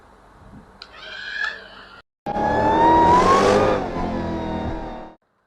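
A Dodge RC car's engine revs hard. A short buzzing burst comes first, then after a brief gap a louder sustained rising whine that peaks and tails off, close and with no voices.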